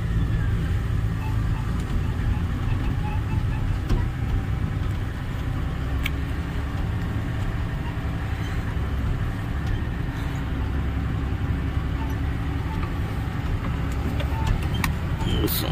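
A truck's engine rumbles steadily as it is parked at the roadside beside a potato field, a continuous low drone over outdoor noise with no pauses.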